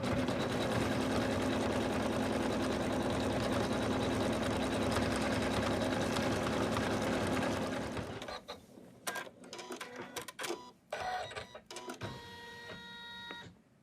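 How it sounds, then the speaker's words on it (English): A home embroidery machine stitches out the next colour on an in-the-hoop snowman stocking, a loud steady mechanical whir for about eight seconds before it slows into scattered clicks and thumps and stops. "then we're going to stitch out the next color"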